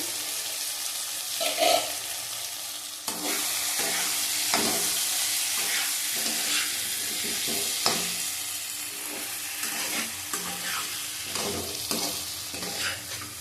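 Curry paste being sautéed and stirred in oil in a pan, a steady close sizzle and crackle broken by repeated scraping stirs, with no voices.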